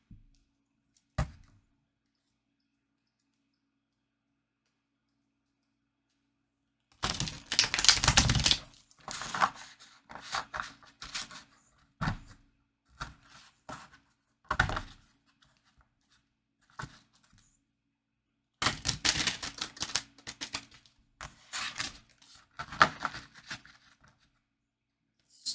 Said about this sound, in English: We're gonna first shuffle your tarot.